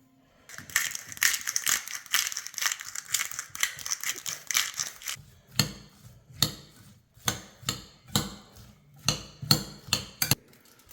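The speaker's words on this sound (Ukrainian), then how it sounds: "застеляємо деко фольгою" Aluminium foil crinkles and rustles while lining a baking tray for oven-roasted sturgeon, a sustained crumpling burst at first, then sharp separate crackles and taps as the sheet is pressed into place.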